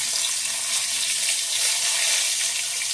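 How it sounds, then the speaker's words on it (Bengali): Cumin seeds and two bay leaves sizzle steadily in hot oil for tempering a Bengali fish curry, a bright continuous crackle that stays close and even throughout with no voices. "ফোড়নে দেবো জিরে, দুটো তেজপাতা"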